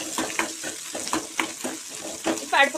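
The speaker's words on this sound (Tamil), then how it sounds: "இப்போ இது வந்து தாளிப்பு எண்ணெயில் சேர்த்துக்கலாம் நல்லா வதக்கி விடுங்க" Onions sizzle and get stirred in hot tempering oil for a tamarind kuzhambu with black-eyed peas and brinjal, giving intermittent crackles and scraping stirs close up.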